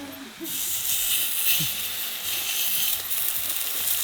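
Pork sizzles on a Thai moo kata grill at a hillside campsite in Phu Ruea at night. A steady, close hiss sets in after a brief pause and runs on, with faint voices low underneath.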